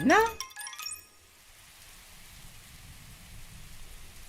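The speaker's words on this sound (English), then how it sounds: "The rain still 少 persists し that 冷えて night" Steady rain falls at night in the Umamusume video game, a soft continuous hiss that follows a brief burst of voiced sound and chime-like tones at the start.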